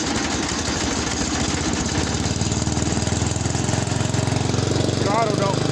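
A Ranch King riding mower's engine cranks and catches, settling into a steady, loud, close running drone with rhythmic chugging, while a person speaks briefly over it.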